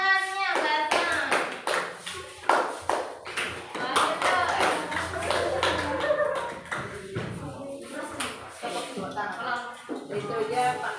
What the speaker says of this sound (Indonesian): Oh, tepuk tangannya basah.